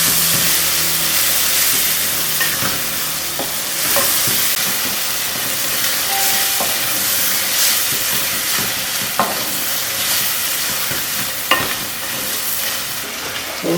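Half a kilo of finely cut chicken pieces fries and sizzles in a pan for Murgh Cholay, a steady hiss with occasional stirring clatters throughout, close and alone with no talking.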